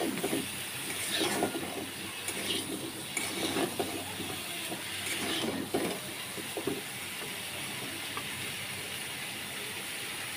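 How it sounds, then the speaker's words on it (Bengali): Pumpkin pieces fry in hot oil in a kitchen, giving a steady, fairly loud hissing sizzle with faint crackles throughout and no talking. "তেলের সঙ্গে আমি মিষ্টি কুমড়াগুলোকে ভেজে নিব।"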